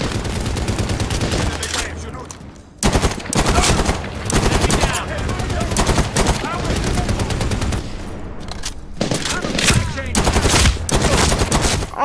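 Dense gunfire from a gun in Medal of Honor Warfighter, loud near bursts of rapid automatic shots with brief gaps, continuing almost without pause.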